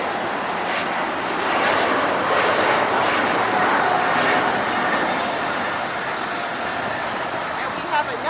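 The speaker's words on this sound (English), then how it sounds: "Listen to those GE90 engines," An Austrian Airlines Boeing 777 with GE90 engines passes close by, its broad, steady jet roar holding loud and even across the whole stretch, with a voice talking over it.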